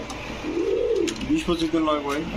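A male pigeon coos close by in a loft of fancy breeds, a couple of low rolling calls in quick succession, with soft background noise.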